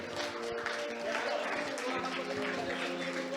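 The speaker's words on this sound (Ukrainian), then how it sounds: "Вони заслуговують на ці овації" Audience applause and ovation for a team at a universal design school event in Rivne, a thick, continuous roar of clapping with voices mixed in.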